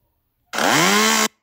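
A single loud chainsaw rev in a video game, a harsh buzzing motor that rises in pitch, holds for under a second, then cuts off sharply.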